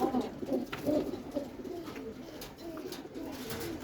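A pigeon coos softly in low, repeated rounded calls over a steady background hiss.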